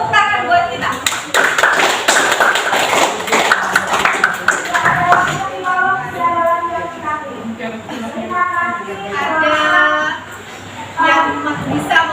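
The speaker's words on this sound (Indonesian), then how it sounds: "Tepuk tangan buat kita." Classroom applause from a group of students, dense clapping that swells for several seconds and then thins out, with voices and chatter mixed throughout.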